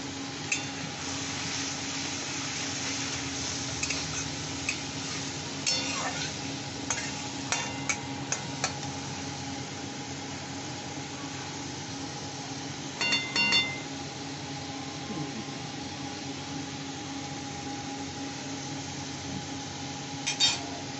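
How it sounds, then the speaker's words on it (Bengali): Boiled taro greens stirred and fried with spices in a pan, a soft continuous sizzle under repeated scraping and clinking of a spoon against the pan, with a few brighter clusters of metallic taps. "এবারে এই সিদ্ধ কচু শাকটা দিয়ে আর একটু কষে নিতে হবে।"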